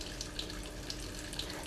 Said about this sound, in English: Fill the reservoir again, this time using only fresh cold water.